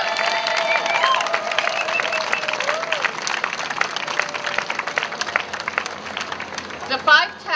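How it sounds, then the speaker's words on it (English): An audience applauds at a U.S. Postal Service ceremony unveiling tap dance stamps on Broadway: dense, steady clapping from a crowd that runs the whole stretch, with talk mixed underneath. "Can we get a round of applause for all of them?"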